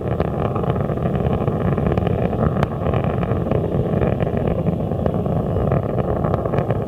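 Space Shuttle Atlantis main engines roar during the STS-104 launch from Complex 39B, a steady, broad rumbling thunder that holds unbroken throughout with no voices.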